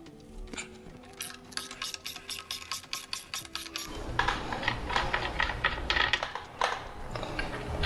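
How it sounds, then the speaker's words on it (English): A wrench works the 27mm axle nut on a Triumph Tiger 900 Rally Pro in a rapid run of close ratcheting clicks, followed by a denser, louder rasping turn, with no talking. "We'll start by removing this 27mm nut and loosening these tensioners."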